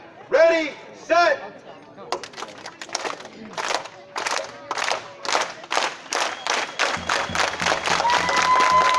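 A crowd at an outdoor Stand Against Hate rally in Alamo Square Park claps together in a steady, rhythmic beat that speeds up and swells into continuous applause and cheering, after a couple of shouted calls.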